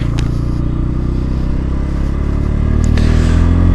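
A Bajaj Pulsar N160 motorcycle being ridden, its engine a loud, steady drone with continuous wind and road rumble, no clear revving changes.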